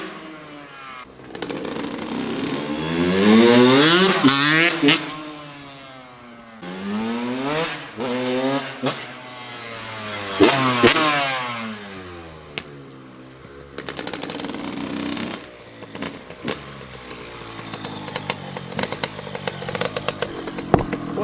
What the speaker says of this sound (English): This is a world-class Honda CR85